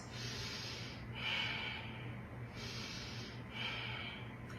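Slow, deep breaths are drawn in and out through the nose during a gentle yoga pose, two soft airy cycles heard close and quiet with no talking.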